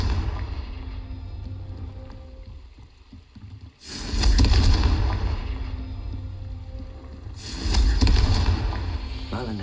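A Confringo fire spell from Hogwarts Legacy goes off in two loud, broad blasts, the first near the middle and a second toward the end, each rumbling and crackling over a steady game background.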